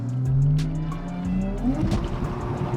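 A BMW M140i drifts at Santa Pod with the engine roaring up through the revs, then its tires squeal loudly and smear while it slides close by.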